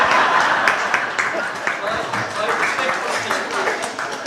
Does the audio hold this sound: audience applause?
yes